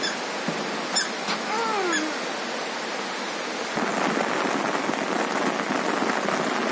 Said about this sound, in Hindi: आप देख रहे हैं काफ़ी तेज़ बारिश है